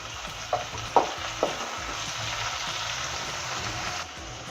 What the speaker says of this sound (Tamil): இப்போ பார்த்திங்கன்னா நான் குடமிளகாவை இதில் ஆட் பண்ணிக்கிறேன். ரெண்டுத்தையும் நல்லா வதக்குங்க.